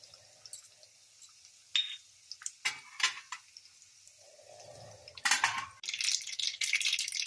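Mustard seeds and asafoetida crackle and sputter in hot oil while Khandeshi mixed-dal phunke are being made, with scattered sharp pops early and a denser, louder burst of spitting toward the end, close up and with no talking.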